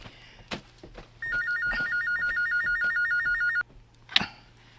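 A telephone rings with a steady electronic trill that lasts about two and a half seconds. Light knocks and room sounds come before and after it, and no one speaks.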